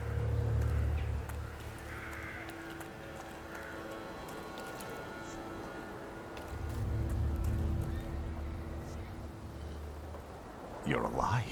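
A horse in The Thaumaturge video game whinnies and snorts amid clip-clopping hooves, with another whinny near the end, under a low music bed and no talk.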